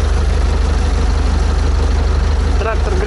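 An old T-40 tractor engine warming up, a loud, close, steady diesel throb with a regular low pulse that holds for the full few seconds, with a brief faint tone near the end.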